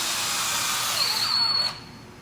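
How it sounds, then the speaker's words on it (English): A cordless power drill with a 7/32 bit drives a bolt into a socket while installing a 2010 T-Rac truck rack, whirring steadily close up for about a second and a half with a rising whine before stopping. "you take your drill and your 7/32 bit, insert it firmly and make sure it's fully engaged into the socket up top"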